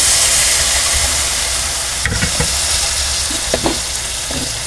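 Kangkong stems and tofu cook in a pan with soy sauce and a splash of broth, a loud, steady sizzle and hiss with a few scraping stirs of a utensil partway through.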